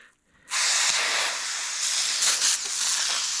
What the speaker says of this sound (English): we're just gonna hose them down